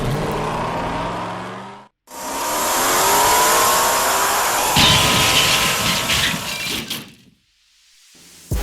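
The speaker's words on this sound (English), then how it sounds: "So we're all staged up for the first pass for the battle for the 8th position." Street-legal drag cars at a main-street drag event launch down the strip in a loud, sustained roar of engines that rises after a brief pause, then cuts off abruptly, with no talking.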